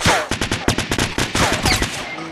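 Rapid gunfire from the video game Fortnite, a burst of sharp repeated shots in quick rhythm, loud and close, lasting about two seconds with no talking over it.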